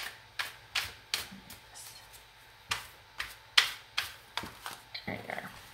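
Reading cards are shuffled in a series of sharp, papery snaps and riffles, about a dozen crisp bursts coming in uneven clusters, close and fairly quiet.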